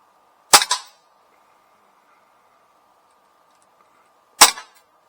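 Two sharp, loud CO2 handgun shots fired in single fire mode, spaced about four seconds apart, each a crisp crack with a short rattling tail, over a faint steady hum.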